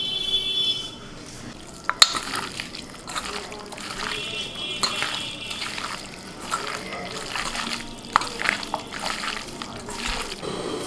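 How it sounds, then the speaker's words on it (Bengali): Water pours and splashes into a wok in a home kitchen, heard as a trickling, splattering stream with stirring clatter and a sharp knock near the start, under ongoing speech. "এবার কড়ার মধ্যে দিয়ে দিচ্ছি জল"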